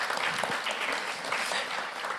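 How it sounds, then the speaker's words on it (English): An audience at an academic conference applauds steadily, a dense, even wash of clapping hands heard from within the room at moderate volume, with no voices standing out. "Round of applause, please."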